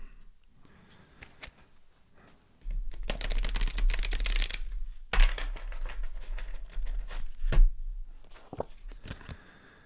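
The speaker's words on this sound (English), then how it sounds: "This deck's always kind of sticky and hard to shuffle." A sticky oracle card deck is shuffled by hand in riffling, crackling bursts of several seconds, close to the microphone and separated by quieter pauses.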